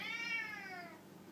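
A cat gives one short, clear meow in a kitchen, close by and alone, its pitch falling away quickly.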